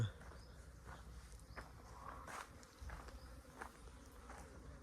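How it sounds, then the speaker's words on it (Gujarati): Flies buzzing around a mango orchard, a faint, continuous insect drone with occasional louder passes and light rustling nearby. "આ ઉડી રહ્યો અહીંયા માખીઓ"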